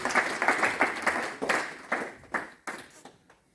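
An audience in a church-like gathering applauds after a presentation, a burst of fairly loud clapping that gradually thins out and fades over a few seconds, with no talking.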